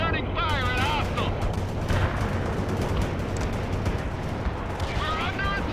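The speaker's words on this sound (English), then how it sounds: "Bradley returning fire at hostile." Heavy gunfire from a Bradley armored vehicle in the World in Conflict game at the fall of the Berlin Wall, dense sustained bursts with rumbling booms throughout, under chirping radio-like voice bursts at the start and end.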